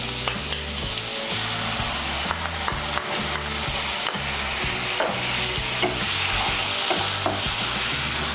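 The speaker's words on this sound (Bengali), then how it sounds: "গুঁড়ো মশলাটাকেও মিশিয়ে নেব তেলের সঙ্গে।" Ground coriander and chilli powder paste sizzling in hot oil for Bengali chana dal tadka, a loud, steady frying hiss with repeated scraping clinks of the spoon against the pan.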